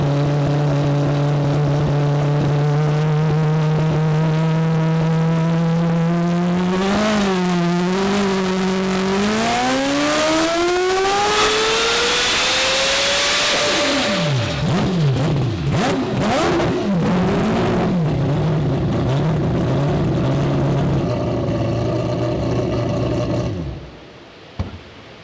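A car's engine on a dynamometer during a test pull, running loud and close as its pitch climbs steadily through the gears, then winds down and fades before cutting out abruptly at the end.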